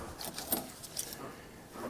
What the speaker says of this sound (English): let's look for Ford keys